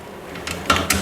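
A P-clip being fitted onto a car brake line gives three short plastic-and-metal clicks in quick succession, close and crisp, with no voices.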